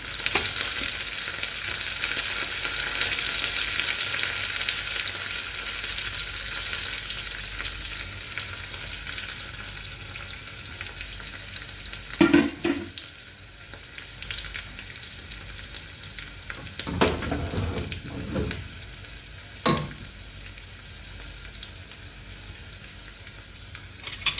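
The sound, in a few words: dried red chillies, shallots and curry leaves frying in oil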